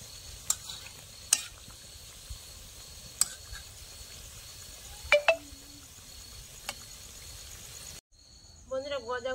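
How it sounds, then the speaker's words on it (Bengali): Khasta goja, a Bengali sweet, frying in hot oil with a soft continuous sizzle and scattered clinks from stirring, followed by a short burst of different noise at the end. "গজাগুলো ভাজা হয়ে গেছে সুন্দর করে।"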